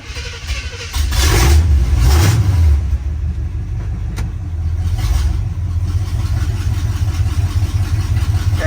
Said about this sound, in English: It idles good.